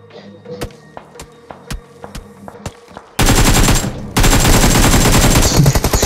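Sparse single gunshots pop at intervals, then sustained rapid automatic fire bursts in loudly and continues densely, in BGMI (PUBG Mobile) combat.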